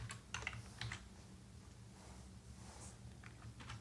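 Keys clack on a computer keyboard as CSS code is typed, quick clusters of close, soft strokes early on followed by a few scattered taps over quiet room hiss.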